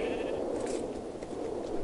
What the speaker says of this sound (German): Hier, das ist die Ziege.